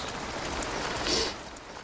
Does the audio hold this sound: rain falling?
yes